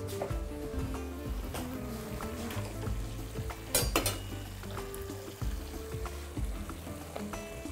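Broth is poured into a pan of fish and vegetables, trout, as it sizzles and fries, with clinks of utensils against the pan and a brief louder splash in the middle.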